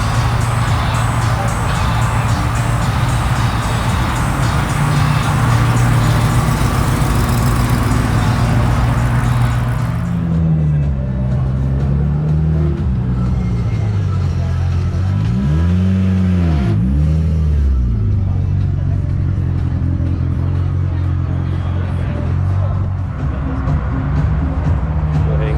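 A white Dodge Hellcat Demon at a car meet rumbles loudly, its engine revving up and down in several swelling pulses over a deep idle, with crowd noise in the background.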